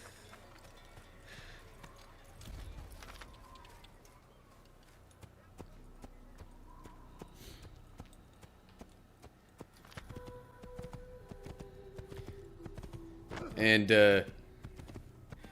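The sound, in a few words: horse galloping in the video game Assassin's Creed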